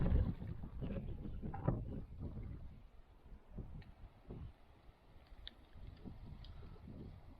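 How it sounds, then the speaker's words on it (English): Wind gusts buffet a microphone outdoors beside a small farm pond, producing low rumbling blasts that rise and fall irregularly, fairly faint, with a few light knocks in the background. "Those gusts they are no joke."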